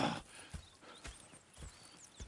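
Horses in the Red Dead Redemption 2 video game clop along in a steady plodding hoofbeat rhythm, with a faint whinny mixed in at moderate distance.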